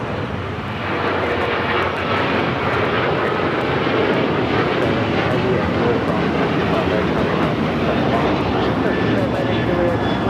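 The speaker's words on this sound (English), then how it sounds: "It's a 12-year-old 787-8 Dreamliner" A 12-year-old Boeing 787-8 Dreamliner jet at LAX airport produces a steady, loud, broadband engine roar that holds throughout, with no speech present.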